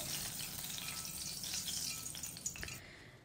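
Green chilies fry in hot oil before bhajiya are made, giving a soft continuous sizzle with faint bubbling and a light stir, quiet and steady with no voices.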